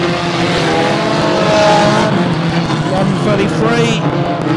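Unlimited banger race cars battle around the Mildenhall oval, a close pack of engines roaring steadily through a corner with tyre noise, heard under continuous race commentary.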